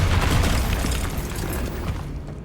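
A Bombarda spell explosion in Hogwarts Legacy gives a loud, dense blast that rumbles on and slowly fades over a couple of seconds, heard alone.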